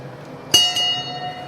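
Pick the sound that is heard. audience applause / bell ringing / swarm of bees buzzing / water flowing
bell ringing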